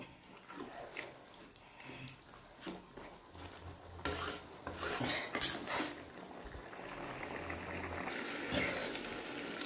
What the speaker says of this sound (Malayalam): ഇതിലേക്ക് നമുക്ക് ചോറ് കോരിയിട്ട് കൊടുക്കണം